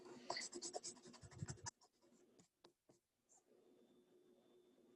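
Pencil tracing a triangle shape onto appliqué fabric, with quick scratchy strokes for about a second and a half, then a few short isolated scrapes before it goes quiet, close up.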